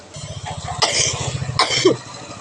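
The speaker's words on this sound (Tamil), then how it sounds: "தும்மல் வந்துட்டு 2 தும்மல் வந்துட்டு." Two sharp sneezes from a person with a cold, one near the middle and another shortly after, close and loud over a steady low buzzing background.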